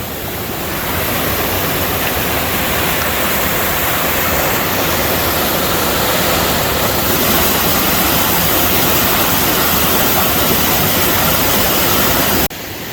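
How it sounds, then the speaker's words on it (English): Little waterfalls on a creek along the Ozark Highlands Trail, a loud unbroken rushing hiss of tumbling water heard up close for the full stretch, with no voices over it. "Lots of little waterfalls back up in there, very pretty."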